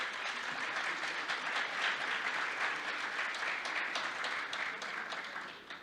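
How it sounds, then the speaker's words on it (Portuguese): Sustained audience applause fills the room as the host of a construction-industry panel is welcomed to the stage, dense steady clapping that fades slightly at the end. "Renato Correia, a quem eu peço uma salva de palmas."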